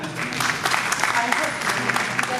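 Audience clapping at a Hindi poetry recital during a 2023 literary festival, a brief burst of scattered, uneven handclaps from a modest crowd.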